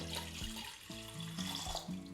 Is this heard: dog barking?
no